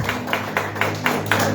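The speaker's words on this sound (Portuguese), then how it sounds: "Uma salva de palmas, agradecimento a Deus pela vida dos irmãos." A church congregation claps together during a family worship service, the applause swelling in steady rhythmic pulses about every quarter second, moderately loud and close, with no talking over it.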